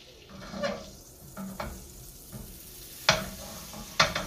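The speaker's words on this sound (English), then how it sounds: "I think the caramel sounds really good." Sliced apples cooking with brown sugar in a skillet, giving a soft, steady sizzle broken by a few sharp stirring scrapes and clinks, with louder spoon knocks near the end.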